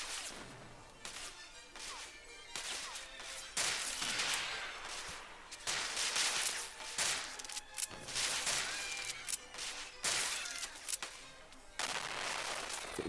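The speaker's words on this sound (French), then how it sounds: "Il y a des tirs de balles partout." Trench-warfare battle in a Roblox game, with dense, continuous gunfire crackling alongside repeated sharp blasts and shell explosions that swell in loudness at intervals across the scene, and no talking.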